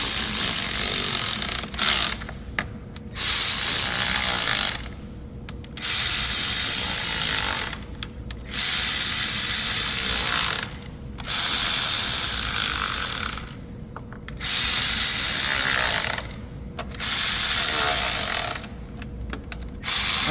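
Ratchet wrench tightening engine valve cover bolts: loud, close, rapid buzzing clicks in repeated strokes of a couple of seconds, separated by brief pauses, with no talk.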